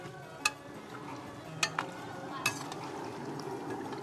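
Turmeric luqaimat dumplings frying in oil and being stirred give a soft, steady sizzle, broken by a few sharp clicks of the utensil against the pan.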